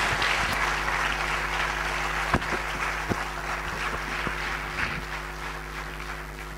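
Audience applause at a motivational talk event, greeting a speaker as he arrives: steady, moderately distant clapping through a hall with a constant low hum and a few sharp knocks, no voices.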